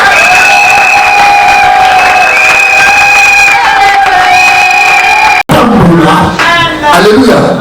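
A church congregation cheers and acclaims during a sermon, loud sustained shouting and whooping voices of a crowd, close and intense, with a brief cut before the cheering resumes.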